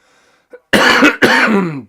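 A close, harsh chest cough in two heavy bursts, deep and raspy, after a brief quiet catch of breath.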